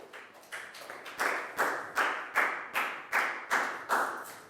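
A classroom of Year 4 students gives a round of applause for a classmate in an English lesson, the claps quiet at first, then settling into a steady, moderately loud rhythm of distinct slapping bursts.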